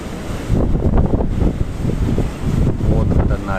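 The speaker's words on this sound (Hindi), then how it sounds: "ये क्या खतरनाक आवाज़ आ रही है समुद्र की" Sea waves crash and roar near the Gomti river confluence at Dwarka, a loud dense rumble buffeted by heavy wind noise on the microphone, continuous throughout with a voice speaking over it.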